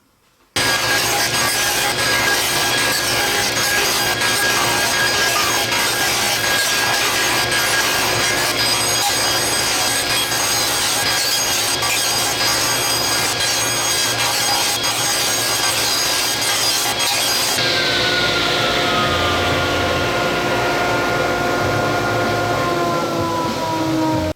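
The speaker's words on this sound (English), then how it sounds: "you can carry on and cut all of your pieces, both the cherry and the walnut sandwiches" Saw cutting cherry and walnut pieces for an end grain cutting board, a continuous loud whirring cut that drops away into a winding-down tone near the end.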